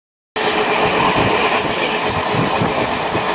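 A loud, close train running to Bishnupur runs steadily after a brief silence, its rumble and wheel clatter continuous with faint rhythmic clacking.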